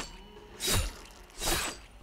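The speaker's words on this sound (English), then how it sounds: "In Zetsubou no Shima, if you melee the skull stand, it'll play the same sound it plays when you knife a zombie." Meleeing the skull stand in Zetsubou no Shima, a Call of Duty Zombies map, triggers two crunchy, slashing knife-hit impacts about a second apart, moderately loud over quiet game ambience.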